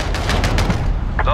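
FAL rifle burst fire in a military video game, a dense rapid string of shots over about a second, loud and close amid constant game noise and radio-style chatter.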